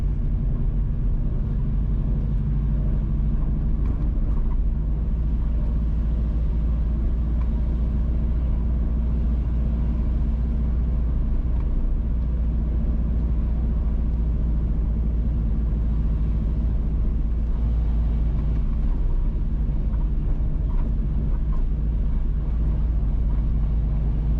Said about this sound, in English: We are driving on the Stony Hill to Parks Road, also the Above Rocks main road.